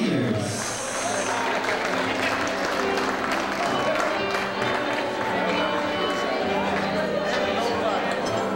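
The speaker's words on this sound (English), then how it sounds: "please raise a round of applause for Dean and his mom" Wedding guests applaud for the groom and his mother before their dance, steady clapping mixed with crowd chatter and voices throughout a busy reception room.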